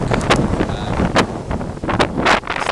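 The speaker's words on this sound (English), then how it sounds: "This wind." Strong wind buffets the microphone outdoors, with heavy low rumbling gusts that surge and drop repeatedly in a loud, continuous roar.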